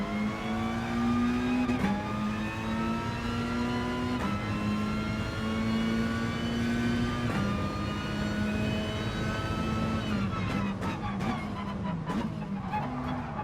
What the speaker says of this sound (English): I'm starting with traction control again to help me launch the car